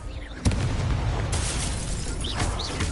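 Confringo explosive spell from a wizard video game, a sudden booming blast followed by crackling, rumbling bursts and smaller pops against dense battle noise.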